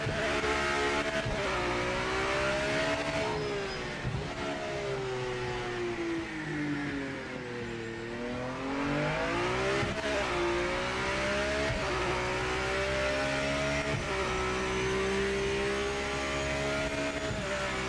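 The Aston Martin Valkyrie race car in Project Motor Racing screams under sustained acceleration, its loud, steady high-revving engine note sweeping up and down through gear changes and corners, with no talk.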